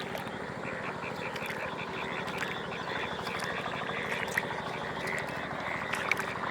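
A thick chorus of frogs croaks in a field flooded by heavy rain, continuous rhythmic calls filling the scene while voices are faintly heard beneath.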